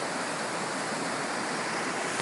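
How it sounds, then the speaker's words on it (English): A fork of the Eklutna River rushes high in the Alaskan mountains below a glacier, giving a steady, dense roar of flowing water that fills the whole moment without any voices. "Some fork of the Eklutna River."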